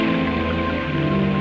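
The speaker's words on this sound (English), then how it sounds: "And rain tests." Steady rain noise from a rain test on military computer equipment, a dense continuous hiss and patter with a faint underlying hum throughout, no voices.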